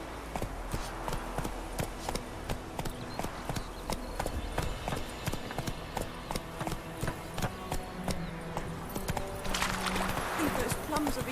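A horse gallops in The Witcher 3, its hooves clip-clopping in a quick, steady rhythm, with game sounds building slightly toward the end.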